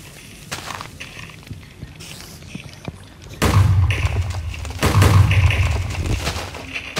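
Minecraft house blowing up in a chain of deep, rumbling explosion booms, growing louder about halfway through and staying heavy and close to the end.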